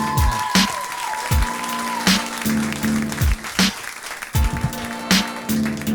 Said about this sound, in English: Give him a nice big round of applause. Let him hear it.